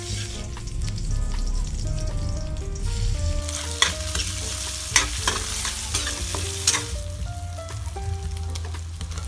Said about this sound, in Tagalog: Igisa na ang onion at garlic, sunod ilagay na ang karne hanggang sa medyo magkulay brown